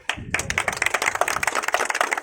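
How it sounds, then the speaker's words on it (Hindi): Several people clap together in a quick, uneven burst celebrating a brother's win at a pigeon-fighting loft event, sharp close claps continuing steadily throughout with no talking. "भाई की जीत के लिए तालियां बजा दें"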